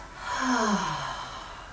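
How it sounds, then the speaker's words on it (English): A single deep cleansing breath is exhaled slowly through the mouth during office yoga, a soft, close, sighing rush of air that swells and then fades. "inhaling through the nostrils if that's possible, exhaling through our mouth"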